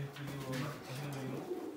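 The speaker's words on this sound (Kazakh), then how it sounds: "Мына ақ көгершіндер" White pigeons coo nearby in soft, low, repeated throaty calls, fairly quiet and close, with faint background noise.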